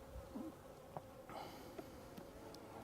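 Honey bees buzz around brood frames lifted from a hive. The buzzing is soft and close, with a faint steady hum and brief louder passes of individual bees, and no voices.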